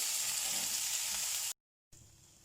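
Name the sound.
steaks sizzling on a sizzler dish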